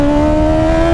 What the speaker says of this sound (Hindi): थापा भाई कह रहे थे व्हीली दिखाओ, उनको व्हीली दिखा दी हमने।